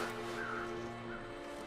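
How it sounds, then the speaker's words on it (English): Crows caw in the snowy game world of The Long Dark, a couple of faint calls over a steady droning background. "Crows."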